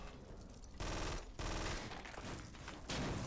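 Gunfire in the 2008 PC shooter Collapse: dense, loud bursts of rapid shots in several waves over constant game background noise, with no talking.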